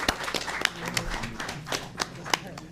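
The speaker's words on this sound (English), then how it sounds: "And I think that deserves an applause for this board" Scattered applause for a board of trustees at a meeting, a small group clapping in uneven, sharp individual claps, with voices talking over it.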